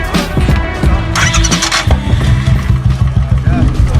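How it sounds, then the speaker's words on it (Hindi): A motorcycle engine cranks and catches, then idles with a loud, uneven chugging rumble up close as people talk nearby. "वायर में छेड़छाड़ करके उसे स्टार्ट भी कर देता है।"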